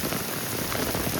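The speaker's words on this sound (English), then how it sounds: "It's raining too heavily." Heavy rain pours steadily outdoors in Canada, a dense, continuous hiss of drops striking the ground and surfaces close by, with no voices.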